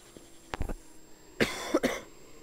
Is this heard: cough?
yes